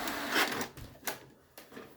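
An inkjet printer running a color print job, giving a few short mechanical whirs and clicks from the print head and paper feed, close by and moderately loud.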